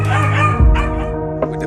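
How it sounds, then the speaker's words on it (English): A puppy out in the woods lets out a close, loud, yipping bark with whiny tones around it. "When he bark this time, just leave"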